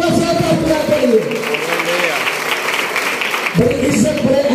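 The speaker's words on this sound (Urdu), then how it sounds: "تالیاں بجائیں بھی ایک بار ساتھ خدا کے لیے" A congregation at a worship gathering claps together in a sustained wash, with voices and tonal sound at the start and end.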